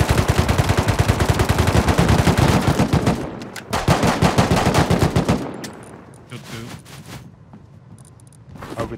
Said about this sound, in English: I'm gonna shoot this kid back.